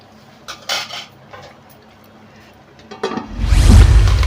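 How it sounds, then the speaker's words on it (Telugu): A metal plate lid clinks against a pan of carrot halwa simmering in milk, a few light metallic knocks, then a louder clatter as it lifts away and a rush of bubbling sizzle swells up close. "ఇప్పుడు ప్లేట్ తీసి చూద్దాం"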